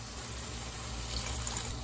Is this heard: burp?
no